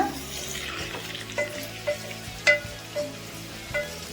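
Brinjal curry sizzles in a pan while a spoon stirs it, soft scraping strokes landing every half second or so over a steady low frying hiss.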